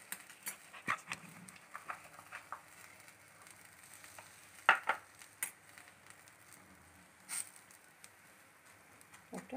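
Egg dosa batter with vegetables sizzles softly in a pan, a faint crackle under scattered clicks and taps from utensils, with a few sharper knocks standing out.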